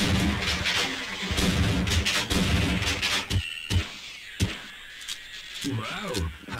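Loud Half-Life combat with sharp bursts of gunfire and explosive impacts, dense and busy at first, then scattered shots with quieter gaps.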